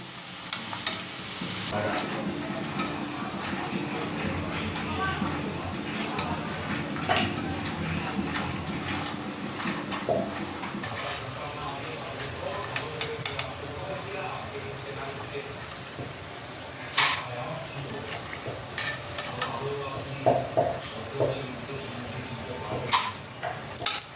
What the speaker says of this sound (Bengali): বেশ ভালো তেলটা গরম হয়েছে লাল লাল করে ভেজে নেব